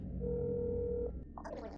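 A steady telephone tone followed by a quick run of dialing beeps in the horror game That's Not My Neighbor, played close and clear, with a voice speaking over the tones.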